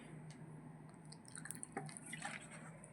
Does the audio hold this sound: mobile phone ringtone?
no